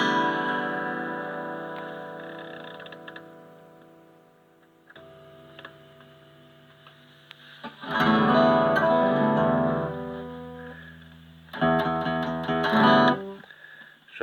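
An electric guitar is played on the normal channel of a repaired Peavey Classic 30 tube amp, with clean chords that ring and decay, a quieter stretch, then louder strummed chords and a final burst.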